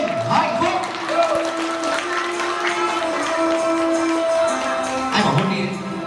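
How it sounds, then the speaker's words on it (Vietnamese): Wedding guests at a Vietnamese wedding reception applaud in a sustained, lively burst of clapping and cheering, mixed with music and background voices throughout. "Một tràng pháo tay thật lớn, thật dài và thật giòn giã hơn nữa để chúc mừng hạnh phúc."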